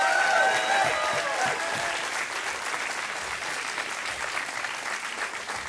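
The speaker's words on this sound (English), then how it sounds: "let's give these 2 competitors a nice round of applause" Audience applause rings out for two grappling competitors after a submission win in a rumble match, a dense steady wash of clapping that starts loud and eases slightly while a faint tone fades early.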